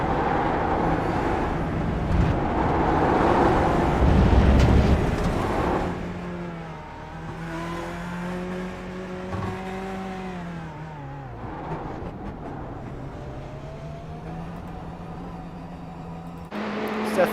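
BMW and Corvette race cars in a racing video game at Road Atlanta, engines droning and climbing through gears along a straight, with a commentator talking over them.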